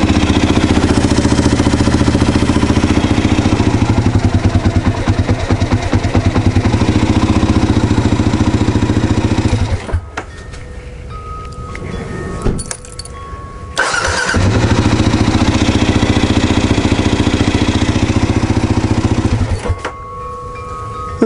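Kawasaki KLR650 motorcycle engine running loud and close on choke, a steady throbbing idle that cuts out, briefly stops, then fires up again and idles before dropping off near the end.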